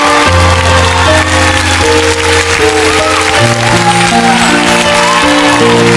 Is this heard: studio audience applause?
yes